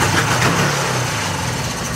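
A Polaris 4x4 that had been left busted runs on its electric start, its engine idling loud and close with a steady, slightly uneven low rumble.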